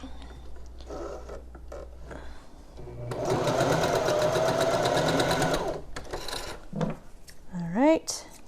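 A sewing machine stitching a fabric mask runs in a fast, steady mechanical whir for about three seconds, loud and close, with brief handling noises and a voice nearby before and after.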